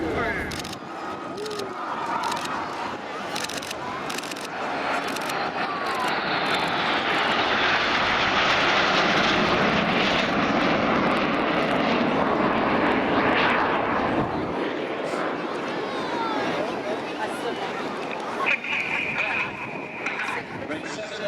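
RAF Red Arrows jets roar loudly overhead during an air display at Airwaves Portrush, the engine noise swelling and sweeping past for a long stretch as a commentator talks over it.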